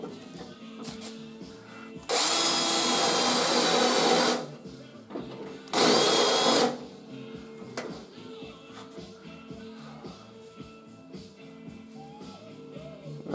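Spot welds being drilled out on a Triumph TR3 body panel: two loud, steady bursts of drilling, one about two seconds long and a shorter one after it, with quieter workshop handling sounds between them.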